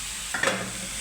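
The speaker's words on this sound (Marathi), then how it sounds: "अशी झाली एकदम तडतडवाली" Kundru, or ivy gourd, is being stir-fried in a pan and gives a short burst of close sizzling and crackling with stirring noises, over a low, steady hiss of frying.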